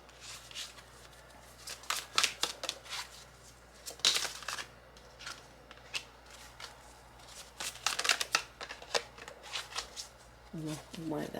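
Tarot cards are shuffled by hand in repeated bursts of crisp riffling and flicking, fairly close and moderately loud, with quiet pauses between bursts and a brief rustle near the end.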